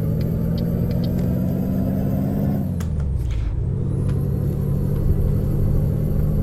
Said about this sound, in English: Love getting the revs up on this truck and hearing the turbo